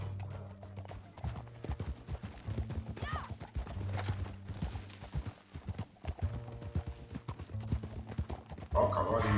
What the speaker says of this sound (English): Ó, o cavalo indo de lado.